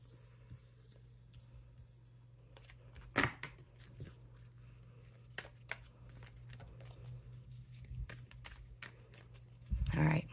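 Tarot cards are shuffled by hand in soft, irregular riffles and taps over a low steady hum, quiet and close, ending in a brief louder burst of shuffling.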